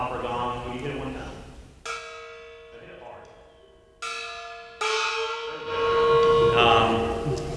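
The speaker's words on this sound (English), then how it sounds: "like that's an opera gong. Can you hit one now?" An opera gong struck twice in a percussion concert, each hit a bright, shimmering tone with a pitch bend that rings on. Concert-hall murmur and noise sit between and after the strikes.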